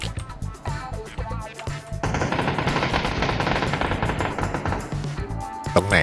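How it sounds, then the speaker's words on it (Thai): Rapid automatic gunfire from the PUBG battle royale game rattles in sustained loud bursts, with a brief pause before a dense continuous volley and a final sharp shot. "โดนเอ้ย ใครมันยิง"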